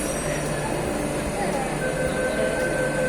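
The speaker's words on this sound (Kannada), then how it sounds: "ಮೆಟ್ರೋ" A Bengaluru metro train runs with a steady, loud rumble and a faint high whine, while voices talk over the noise.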